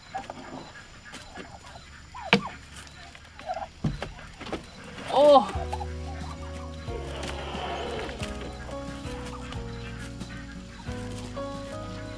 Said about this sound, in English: Turkeys are ready to come out this morning.